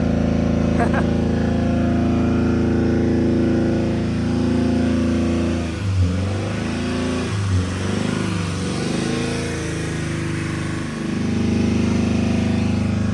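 A Honda engine running on chocolate milk holds about 3,000 rpm, loud and steady with a rough, clanky edge, a few swells in pitch, while people talk over it.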